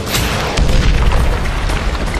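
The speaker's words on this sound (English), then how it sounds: "One of the missiles scores a direct hit on the enemy bunker." A missile striking an enemy bunker in combat, a heavy continuous booming roar of explosion filling the whole stretch, loud and dense with deep rumble.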